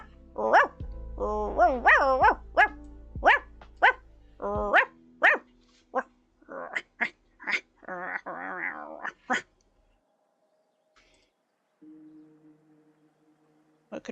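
A human voice imitates a dog, giving a rapid string of yips, barks and growls before falling quiet, with a faint murmur near the end.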